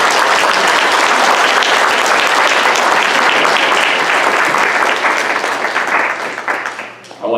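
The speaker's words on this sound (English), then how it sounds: "I invite everyone now to join me in a really loud round of applause" Loud, dense applause from a large audience at a Quincy City Councillor at Large debate in the North Quincy High School auditorium, sustained for several seconds before fading near the end, where a voice briefly begins.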